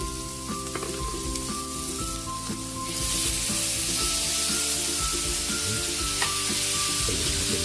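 Onion and pork frying in a pan, a loud steady sizzle that swells sharply about three seconds in as more food hits the hot oil, with faint stirring clatter and no voices.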